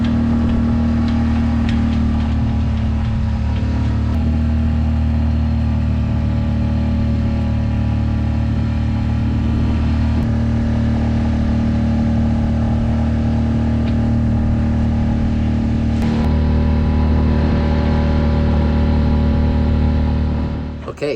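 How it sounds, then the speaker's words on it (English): A 28 foot Pearson Triton sailboat motors along under engine power, its steady low drone loud and unbroken throughout. "So I'm going to motor the rest of the way"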